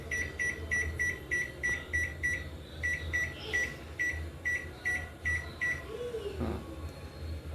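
Microwave oven running on grill setting with its turntable rotating, a low steady hum under a repeating series of soft electronic beeps, with a brief faint clunk near the end.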